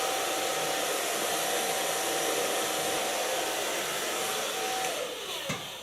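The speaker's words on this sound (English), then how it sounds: "So far blow drying of a wavy hairstyle." A hair dryer blows steadily and loudly while styling wavy hair, a constant whooshing hum with a faint whine, dipping slightly near the end.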